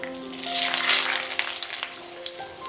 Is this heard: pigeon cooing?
no